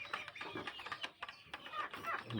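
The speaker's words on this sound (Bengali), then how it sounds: "এখন এই যে আমার মুরগিগুলো খাচ্ছে খুব ভালোভাবেই খাচ্ছে" Free-range native chickens clucking and chattering at close range as they eat, with a busy run of short bird calls and scuffling throughout and no talk.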